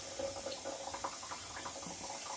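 Tap water running through a Zero water filter pitcher, a steady close trickle and splash of pouring liquid that continues alone across the whole stretch.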